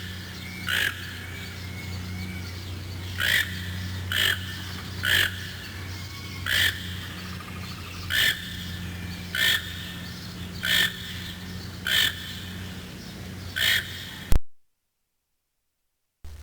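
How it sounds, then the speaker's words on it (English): Toco toucan at a zoo giving a series of about ten short, evenly spaced croaking calls, roughly one every second or so, moderately close over a steady low background hum. "The Toko toucan, with soft fur-like feathers and a beak nearly as long as his body."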